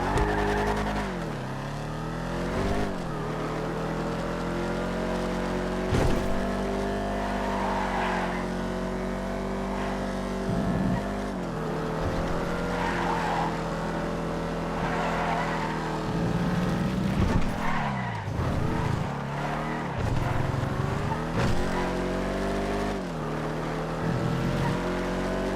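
A Virgo ZX convertible in a video game drives continuously with a droning, rising and falling engine note, punctuated by brief tire skids and screeches, loud and close throughout.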